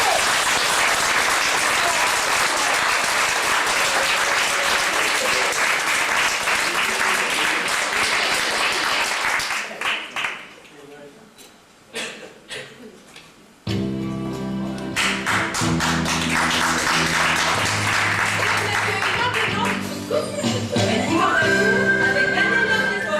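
A theatre audience applauding loudly, dense sustained clapping that fades into scattered claps and a short quiet gap, then gives way to music with continued clapping and voices.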